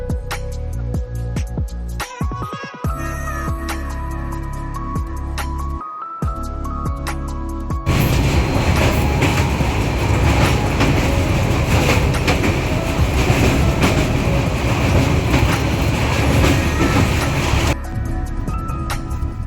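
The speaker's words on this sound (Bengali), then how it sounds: "সকালে ঘুম ভাঙতেই দেখি আমাদের ট্রেন চা বাগানের মধ্যে দিয়ে ছুটে চলেছে" A train runs through tea gardens, first with quieter rhythmic rattling and tonal hums, then a loud, dense roar of wheels and carriage noise for about ten seconds before easing back.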